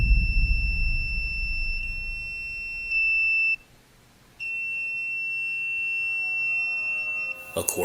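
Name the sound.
360 motion detector going into alarm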